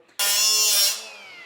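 Brass tube being cut with a power tool, a single loud high-pitched whine starting abruptly, holding for about a second, then easing off.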